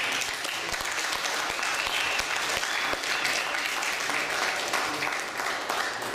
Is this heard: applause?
yes